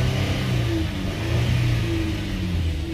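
Car engine held at wide open throttle near 6900 RPM during a crankshaft position sensor relearn. A loud, sustained high-revving drone wavers slightly as the engine hits its cut-off, heard close and without talk.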